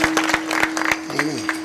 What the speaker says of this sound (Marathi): पक्वाच्याबद्दल टाळी वाजवा हो.